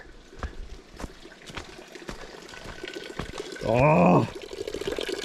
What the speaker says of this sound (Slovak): človek nájde reálne pitnú vodu, ktorá aj tečie, čiže reálny prameň